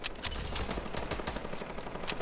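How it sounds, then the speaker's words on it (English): A compact SMG fires in Fortnite as a dense, rapid burst of automatic gunfire, loud and continuous across the whole moment with no one speaking. "Hold on, Matt's shooting somebody."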